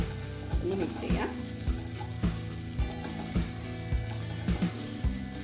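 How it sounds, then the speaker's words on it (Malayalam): Tuna fish stir-fry with curry leaves and coconut oil sizzles in a pan, a continuous close fry punctuated by regular thumps of stirring roughly every half second, with no talking. "വെളിച്ചെണ്ണയും കൂടെ ഒഴിച്ചിട്ട് നല്ല രീതിയിൽ ഒന്ന് മിക്സ് ചെയ്യാം."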